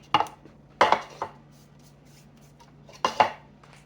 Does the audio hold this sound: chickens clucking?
no